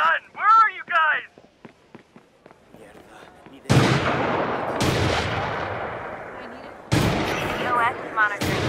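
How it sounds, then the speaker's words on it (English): Loud, booming gunshots from the video game Watch Dogs 2 crack out in a few separate blasts, each followed by a long echoing tail, after a stretch of speech and quiet. "Someone's firing a gun!"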